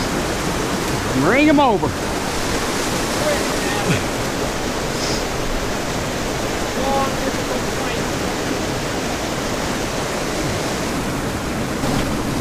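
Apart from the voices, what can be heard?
waterfall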